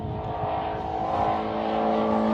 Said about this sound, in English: it sounds like that car is definitely on song and doing really well